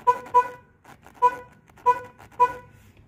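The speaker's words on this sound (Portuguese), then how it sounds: "Ó, agora, ó, vou buzinar com a mão, ó." Horn of a Chevrolet Corsa, just repaired after a blown fuse, pressed by hand: five short, loud honks in an uneven rhythm over about three seconds, each a brief bright tone with no talking in between.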